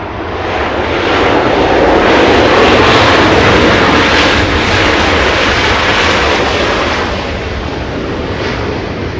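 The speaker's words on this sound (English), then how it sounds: "Could be the Dreamliner, the Air Tahiti Nui" Air Tahiti Nui Boeing 787 Dreamliner jet airliner at Los Angeles International Airport, a loud, broad engine roar that swells and then slowly fades.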